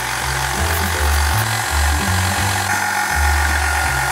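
A pasta machine rolls coloured pasta dough into thin lasagne sheets, making a loud, close, continuous mechanical rumble with an uneven low chugging rhythm.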